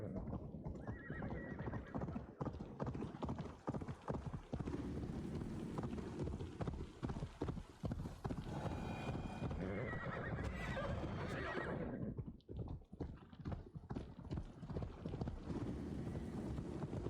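A horse in the video game Assassin's Creed Valhalla gallops with fast, loud clip-clop hoofbeats, breaking into a whinnying neigh partway through, with some wind noise around it.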